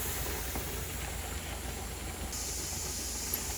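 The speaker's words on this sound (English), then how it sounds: "we've had a good exhaustive steam coming out for 10 minutes now" Steam vents steadily from a pressure canner while meat is processed, a continuous close hiss with a low rumble underneath that grows brighter partway through, with no talking.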